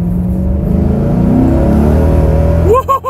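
A Maserati GranSport's 400-horsepower engine revs and pulls steadily while accelerating, a loud rising drone from inside the car that cuts off abruptly near the end, followed by a brief whirring rise.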